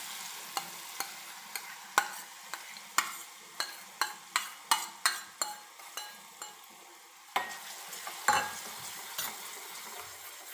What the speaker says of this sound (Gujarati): તેલ પણ મીડિયમ ગરમ થઈ ગયું છે તો એમાં એડ કરીશું લસણની પેસ્ટ